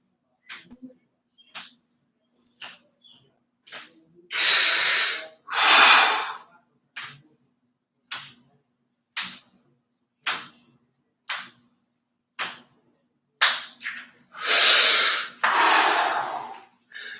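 Slow, deep breathing during a relaxation exercise: short, soft breath sounds alternate with two long, loud, airy inhale-exhale cycles, separated by quiet gaps.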